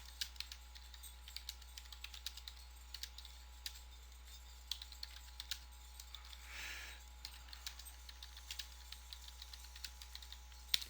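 Fast, irregular clicks of typing on a computer keyboard while entering a Craigslist ad, quiet and close, with a faint steady hum underneath and no talking.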